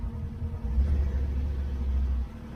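A 2019 General with a Dura clutch, engine given a little throttle in low gear: a close, steady low rumble that swells slightly and holds, with no talk.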